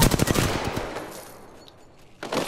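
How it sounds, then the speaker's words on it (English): Gunfire in a video game: a fast burst of repeated shots up front fades into a long ringing tail, then another loud volley starts near the end. "I'm taking shots. Opening fire."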